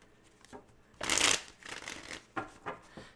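A sharp riffle of tarot cards being shuffled close up, followed by several softer card slides and taps, with no talking.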